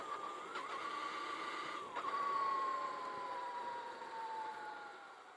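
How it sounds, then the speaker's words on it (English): A Zero Empulse TT electric motorcycle pulls away from a stop in second gear with a steady, high electric whine that briefly dips twice, then holds and slowly eases off, fairly faint, with no talking. "Let's take off in second gear."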